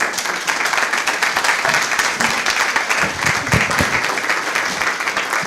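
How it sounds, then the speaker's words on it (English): Steady, sustained applause from mourners at a memorial service, many hands clapping evenly throughout with faint voices mixed in. "Do give him another round of applause."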